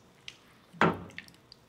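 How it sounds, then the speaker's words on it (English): Almonds stirred into a thick chicken korma sauce, one wet squelching swish in the middle flanked by a few small clicks and drips, close and otherwise quiet. "So I'm just going to pop in the almonds as well. I'm going to give that a stir through"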